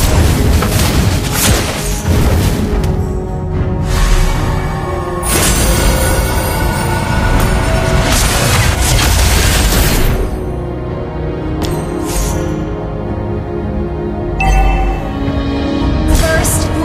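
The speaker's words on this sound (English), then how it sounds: "Lava burst!" Fiery lava burst skill from the mage hero Valir in Mobile Legends: Bang Bang, a run of loud booming explosions and crashes that repeat over about seventeen seconds amid dense game music and effects.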